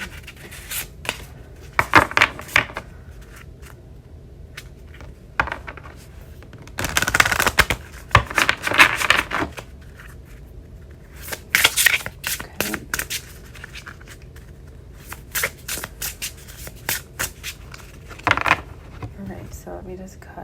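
A mushroom spirit oracle card deck is shuffled and cut by hand in irregular bursts of crisp riffling and rubbing, close to the microphone, with quiet gaps between bursts and some talking.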